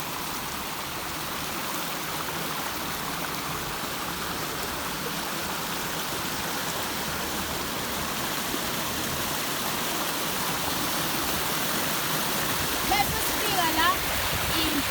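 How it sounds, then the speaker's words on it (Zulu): A waterfall on a single flowing river pours in a steady broadband rush of water that holds even and close throughout, with a few faint bird-like chirps near the end. "Impophoma, na impophoma"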